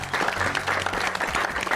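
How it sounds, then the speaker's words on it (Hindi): Enthusiastic applause from a studio audience on a Hindi television game show after a round ends, a steady clatter of many hands. "दोनों के लिए जोरदार तालियां"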